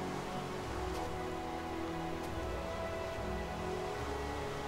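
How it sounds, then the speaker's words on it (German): Steady rain pours down in the Minecraft video game, a dense, even hiss of drops that fills the whole stretch at constant loudness, with no voices over it. "Und irgendwie kommen wir von einem Regen in den nächsten Regen."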